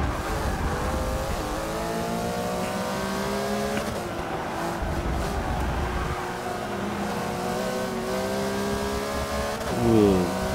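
Race cars in Forza Motorsport 6, a 2011 Porsche Flying Lizard 911 running close behind a Viper and a Corvette, engines roaring steadily with repeated rising and falling revs through gear changes and a brief tire squeal near the end.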